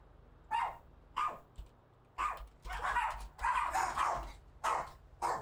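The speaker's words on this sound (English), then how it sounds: "My dogs go nuts." Dogs barking indoors, a series of loud sharp barks in bursts, some overlapping into a frantic run of yapping, close by and with no talk over them.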